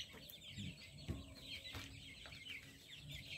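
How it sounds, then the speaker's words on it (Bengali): Faint clucking from a flock of about 400 twenty-five-day-old Sonali chickens on a poultry farm, scattered soft calls over a low, steady background. "এই দেখুন সোনালী মুরগি"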